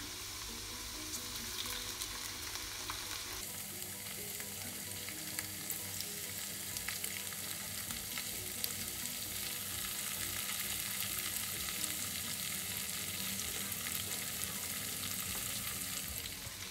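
Potatoes fry in a pan, then shrimp are added, and a dense, even sizzle turns brighter and fuller, holding steady at close range with occasional stirring.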